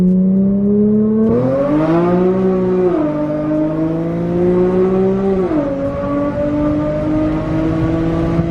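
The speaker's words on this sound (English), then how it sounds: "do one little 20 roll so you can feel the power" An Infiniti Q50 accelerates hard from a 20 mph roll in a performance map, its engine droning and rising in pitch through several gear shifts, loud and close from inside the cabin.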